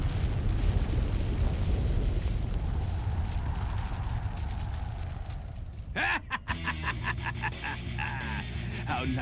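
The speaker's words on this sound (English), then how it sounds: "Airstrike!" Airstrike explosions in the Mega Man X8 game: loud, sustained rolling blasts and booms for several seconds, followed by bright, chaotic game effects and music-like tones, with no clear speech.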